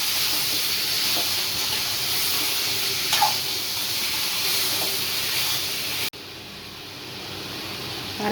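Chicken pieces for a curry sauté in a hot pan after being washed with turmeric, making a loud, steady sizzling hiss that holds throughout, with a brief dip near the end.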